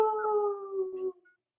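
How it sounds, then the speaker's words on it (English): A dog gives a single sustained, clear howl, steady and fairly close, tapering off with a soft whimper at the end; no talk accompanies it. "Can you please howl to Jen for Woofy?"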